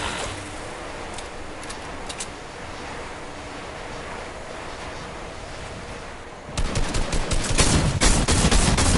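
A drum shotgun fires in Fortnite: a quick series of loud, close blasts bursts in near the end, after several seconds of steady rushing background noise.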